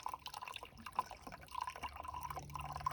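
Water trickling and dripping from an upturned Rotopack container at a deep-woods Ohio campsite, a steady light splashing with scattered drips, close by and moderately quiet.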